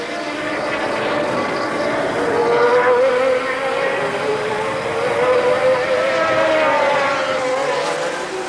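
Formula 1 cars racing at the 1982 Long Beach street circuit, turbo and Cosworth engines, roar past in a loud, sustained whine that rises and falls as they pass, with commentary running over it.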